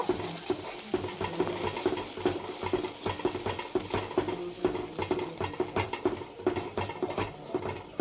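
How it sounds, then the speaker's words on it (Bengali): Whisked yogurt being stirred into spices in a pan for doi potol, a vegetarian pointed-gourd curry: a steady close sizzle with frequent scraping, rhythmic spoon strokes throughout. "এবার আমরা ফেটানো দইটা দিয়ে দেবো। দইটা আগে থেকে ফেটিয়ে রেখেছিলাম, দিয়ে দিলাম। ভালো করে নাড়িয়ে চাড়িয়ে নেব।"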